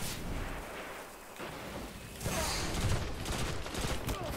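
Gunfire in a Destiny Crucible multiplayer match, a dense run of booming shots and blasts that builds louder partway through, continuous and close.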